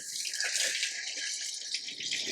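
Water runs steadily through the hot water line of a travel trailer, a continuous hissing, splashing flow from a tap, fairly soft and close with no voices.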